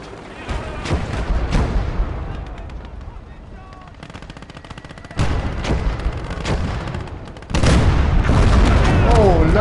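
Booming cannon shots and rattling machine-gun bursts in a WWII tank battle video game with a KV-1 tank, several sharp blasts close by over continuous battle noise, with voices talking underneath.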